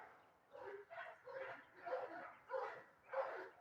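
Several dogs bark in a steady series of about six fairly faint barks heard from a distance, spaced roughly half a second apart.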